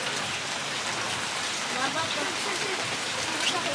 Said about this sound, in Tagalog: Paggabi na, umuulan pa rin.